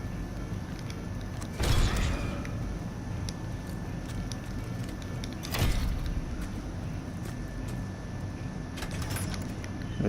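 Creaking mechanical noises with a few sharp clacks spaced several seconds apart, like a heavy door grinding open, over a low steady hum, from a door in World War 2 zombies video game.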